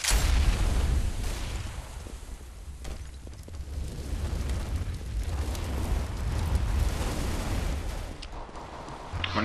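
An incendiary fire grenade burns in CS:GO, giving a dense, continuous roaring rush of flame that stays loud and close for the whole stretch, with occasional crackles.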